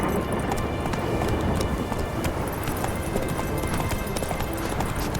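Roach, Geralt's horse in The Witcher 3: Wild Hunt, galloping steadily with a continuous rapid drumming of hooves over a dense, noisy outdoor backdrop.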